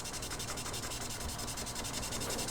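Sponge sandpaper is rubbed over a plastic Gunpla model kit part, making a continuous, even, close-up scratchy hiss with a quick back-and-forth rhythm and no voices.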